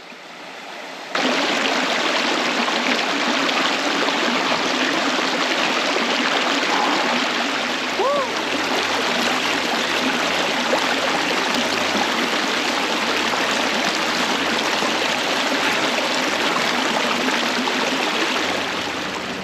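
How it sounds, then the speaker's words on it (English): Cheaha Creek in the Alabama wilderness flowing steadily, a loud, continuous close rush of stream water, alone with no talk. "Once you cross the Cheaha Creek"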